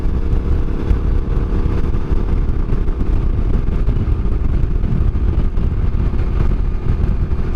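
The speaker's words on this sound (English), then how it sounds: "I'm out here just to warm the bike up, doing a little heater up loop" Yamaha Tenere 700 motorcycle ridden on a warm-up loop, its engine droning steadily and loudly with wind rush throughout and no talk.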